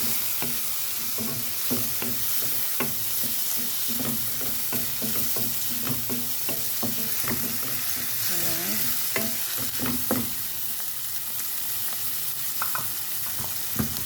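Bitter gourd stir-fries in a pan with shrimp and egg, giving a continuous loud sizzle punctuated by regular clicks and scrapes of a utensil tossing the pieces.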